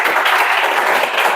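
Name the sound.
classroom applause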